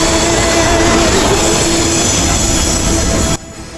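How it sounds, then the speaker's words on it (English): A Eurostar train rolls into a station with a loud, steady rumble and hiss of wheels on rail, a faint squealing tone running through it, before the noise drops away abruptly near the end. "Arrival of our Eurostar."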